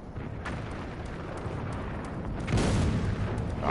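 A micromine detonates on a gate lock in the video game Rogue Trooper Redux, a rumbling blast that swells louder near the end over a continuous low roar of game ambience.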